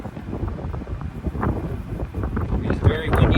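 Gusty wind buffets a microphone outdoors at an off-grid cookout, low rumbling blasts rising and falling and growing stronger toward the end, with a person talking over it.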